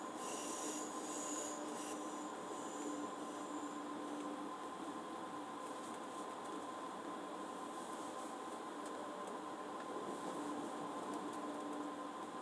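Steady rumble of an electric train rolling along with a constant motor whine and metallic wheel rasp, continuous and fairly close throughout, in Train Sim World on the Munich–Augsburg main line.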